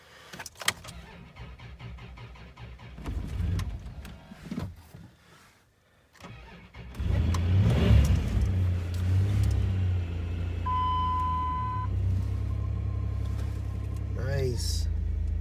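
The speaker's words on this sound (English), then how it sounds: "I just want to see if I can get this jump started and going." A car engine cranks and catches on a jump start, then runs steadily with a loud low rumble after a brief pause, while people talk over the engine noise.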